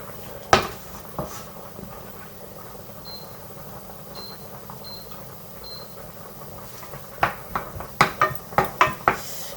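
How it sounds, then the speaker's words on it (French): Knife chopping mushrooms on a board while a vegetable curry is prepared, a couple of isolated knocks early, then a quick run of sharp, close cutting taps at the end. "je finis de couper mes champignons"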